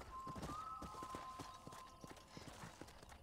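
Horse hooves in the Western game Red Dead Redemption: a quick, steady clip-clop gallop that runs throughout, moderately quiet, with a thin sustained tone above it.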